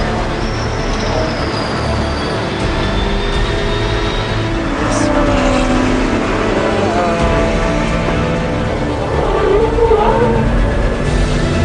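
Racing cars in a large endurance race field of up to 180 cars, a steady continuous roar of engines passing on track, loud and sustained throughout with shifting tones.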